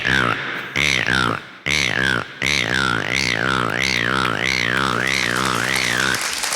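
A voice imitates a single frog croaking in a rainy paddy field, giving a few short, separate croaks followed by a long, close, warbling trill.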